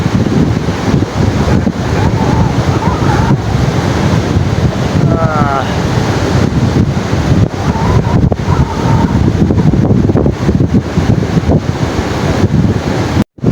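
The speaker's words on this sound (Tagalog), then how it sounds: "napakaalon yung dagat" Rough sea surf and strong wind roar continuously near the microphone during a fishing trip, with a brief vocal exclamation partway through.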